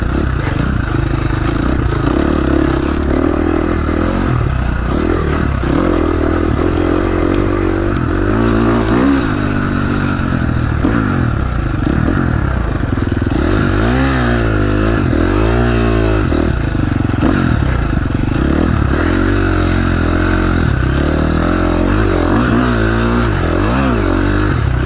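A KTM 350 XCF dirt bike rides an off-road course. Its engine revs up and down continuously, loud and close, as it climbs and drops through the gears, with clattering and scraping from the terrain.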